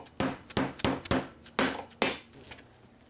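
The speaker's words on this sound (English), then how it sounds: "The aluminum front edge also slips on and is tapped into place." An aluminum front edge is tapped onto a particle-board shelf for a garden shed: about seven sharp, close hammer taps in an uneven rhythm, alone with no talk.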